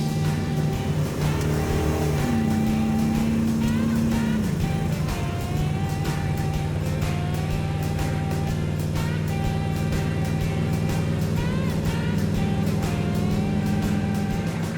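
Big-block 440 V8 in a Dodge Dart at highway speed, a steady loud engine drone with shifting tonal hum and road roar throughout, with no voices.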